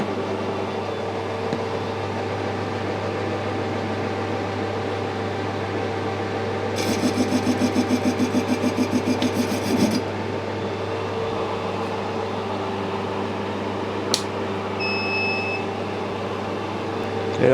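A lathe cuts a big bronze bush with a steady machine hum and low drone throughout, plus a patch of rapid rhythmic chatter and a few brief sharp ticks.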